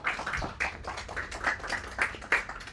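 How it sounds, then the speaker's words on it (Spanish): Small audience at an urban cadastre and GIS cartography lecture clapping, a light, scattered patter of claps of moderate loudness, no voices over it. "Démosle un fuerte aplauso."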